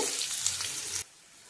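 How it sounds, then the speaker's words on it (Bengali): Potatoes frying in oil for a vegetarian Bengali dish give off a steady, close sizzling hiss that stops abruptly about two-thirds of the way through, leaving a faint room tone. "এবার এটা আমি আলুগুলোকে ভালো করে আগে ভেজে নেব"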